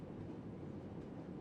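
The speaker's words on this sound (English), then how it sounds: "there's an extra train coming through" A train rolling through in the Rail Route video game, a continuous low rumbling wash of wheels and carriage noise at a steady moderate level, no talk.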